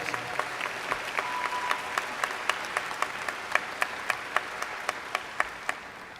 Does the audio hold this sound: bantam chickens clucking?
no